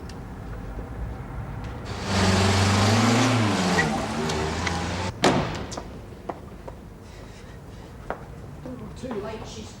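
A car starts and pulls away close by, its engine rising for a few seconds and then fading, followed by a sharp knock and scattered small noises as it leaves.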